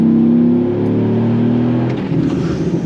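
A Dodge Ram SRT-10's deep, throaty Viper V10 engine revs hard and holds a loud, steady roar, its pitch sweeping up and settling, with pops and crackles near the end.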